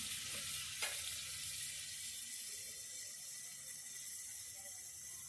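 Tomatoes and onions with salt sautéing in a pan over a wood-fired stove, a soft continuous sizzle with a couple of brief clinks near the start, faint and steady with no voices.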